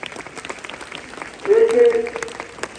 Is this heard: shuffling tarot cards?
no